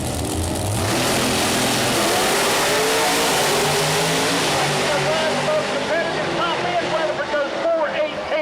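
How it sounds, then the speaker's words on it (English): Nitrous Pro Mod drag cars race side by side at Mooresville Dragway, a loud continuous engine roar that sweeps past and fades as they run, with an announcer's voice partly over it. "Good side-by-side race there, folks, as Sonny Kendall was a 420 at 171 miles per"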